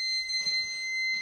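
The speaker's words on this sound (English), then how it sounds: "I thought that was a fire alarm, man." A fire alarm sounding: a sustained, piercing electronic tone, steady and unbroken across the short clip, moderately loud with no talk over it.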